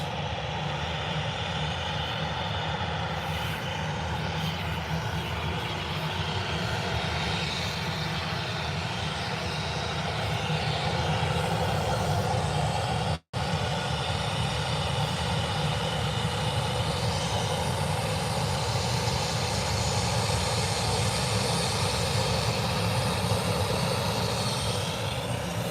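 Jet2 airliner coming in to land at Birmingham Airport, a steady loud engine roar close by that holds throughout with a brief break midway, no talking.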